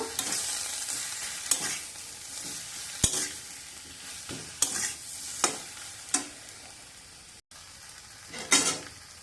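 A pumpkin shoots curry with turmeric and green chilli being stirred in a pan: repeated close spatula scrapes and clacks against the metal over a light sizzle.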